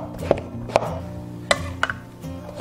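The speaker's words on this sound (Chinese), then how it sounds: "准备半个杏鲍菇，斜刀切片。" A knife slices half a king oyster mushroom diagonally on a cutting board, giving about six crisp, separate chops spaced unevenly, close and quiet with no talk.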